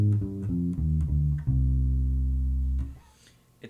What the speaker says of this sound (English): And a minor scale sounds like this.